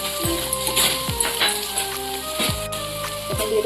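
Chopped garlic dropped into white oil with lightly browned onions, sizzling steadily while a spoon clinks and scrapes the pan a few times, close and clear.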